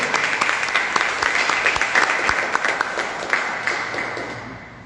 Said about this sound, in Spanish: les pido un fuerte aplauso, por favor, para el conferencista del día de hoy